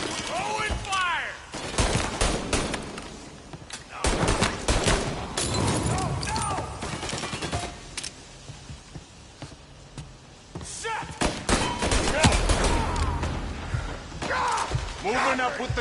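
Tommy gun fire from the video game Mafia Definitive Edition, with loud rapid bursts and fusillades repeating throughout alongside gameplay impacts and occasional talking.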